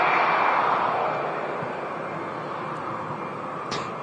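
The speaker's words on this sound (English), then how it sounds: "Quite a few aircraft on the way out here at Manchester" An aircraft at Manchester Airport makes a broad, steady jet roar at moderate distance, slowly fading a little over a few seconds, with no talking.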